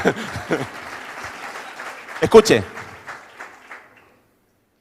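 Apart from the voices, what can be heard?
audience applause at a seminar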